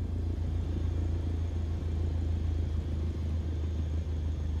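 Aircraft taxiing in Microsoft Flight Simulator 2020 makes a steady low engine rumble, even and unbroken throughout, with no voices.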